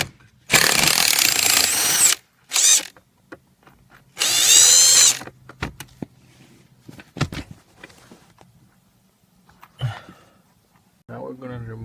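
Bursts from a power tool, likely an impact driver or ratchet, spinning 10mm bolts out of a Honda Civic during expansion valve and evaporator replacement; several loud whirring runs separated by clinks and handling noise.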